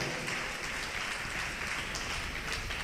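A church congregation claps loudly together during a Telugu service on fasting, a dense, steady wash of many hands with no break and no talking.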